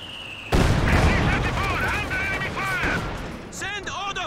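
Artillery barrage in the World War II strategy game Company of Heroes 2 erupts in a loud sustained rumble of blasts and gunfire, with whistling shells and a voice speaking over the din.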